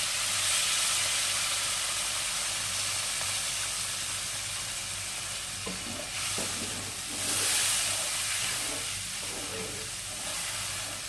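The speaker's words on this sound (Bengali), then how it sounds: "আলুগুলো আমাদের ভাজা হয়ে গেছে। এবার দিয়ে দেব জল।" Water poured onto fried potatoes in a hot pan sets off a loud, steady steaming hiss and sizzle. It lasts the whole stretch and swells briefly partway through, with a few faint scrapes underneath.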